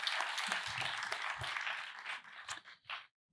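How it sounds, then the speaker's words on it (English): An audience at an international design forum presentation in Kaunas applauds a speaker being welcomed to the stage, a dense burst of clapping from a crowd that thins out and trails off into scattered claps before stopping. "let's a round of applause for Jūratė"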